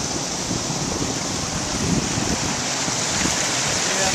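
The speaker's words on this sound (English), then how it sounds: "there's another waterfall over here which I'll show you now." A waterfall beside a castle in a village roars as a loud, dense, constant rush of falling water, filling the whole stretch without a break.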